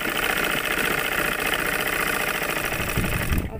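An electric sewing machine stitching folded dress fabric, a steady fast mechanical whirring hum running continuously before stopping abruptly at the end.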